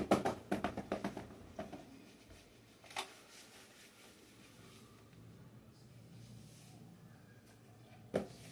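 A burst of brisk rubbing strokes as writing is wiped from a board, loud at first, then fading to a quiet room with a few isolated scuffs and one last sharp swipe near the end.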